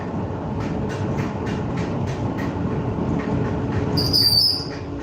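An old train rolls steadily with a dense, continuous rumble of wheels on rails, and a sharp high wheel squeal rises near the end.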